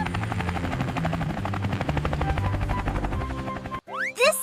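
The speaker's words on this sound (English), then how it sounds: "This is a helicopter. Helicopter. Chop, chop." A helicopter's rotor thumps in a steady rapid chop, loud and close, before a brief cartoonish whistling sweep at the end.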